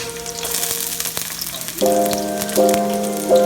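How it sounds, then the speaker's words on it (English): Garlic sizzles in hot olive oil in a pan for a kale and garlic pasta. The crackling frying hiss is close and continuous, swelling louder as it goes. "we're gonna go ahead and add the garlic right now"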